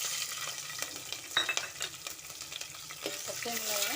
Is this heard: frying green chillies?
yes